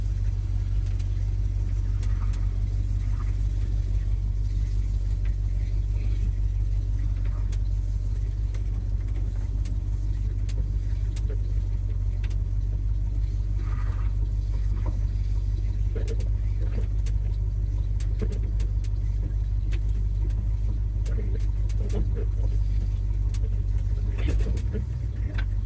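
A 1976 Ford F-150 Ranger engine idles steadily, a loud, low, continuous rumble with a constant hum and faint clicks and rattles over it, running unchanged for the full stretch.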